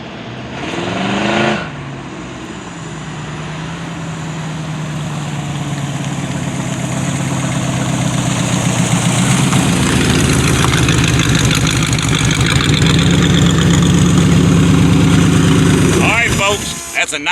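A 1978 Chevy LUV truck rebuilt with a 305 Chevy V8 and fuel injection rumbles loudly and close, building steadily in volume as it drives nearer before settling into a rough, throbbing idle.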